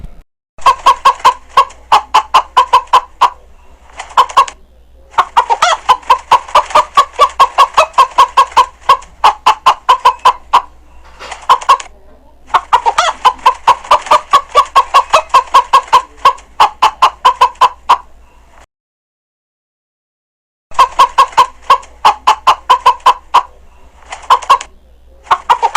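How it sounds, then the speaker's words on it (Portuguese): A farm chicken clucking in quick, steady runs of loud, close calls, broken by a few short gaps and a longer silence before resuming. "galinha,"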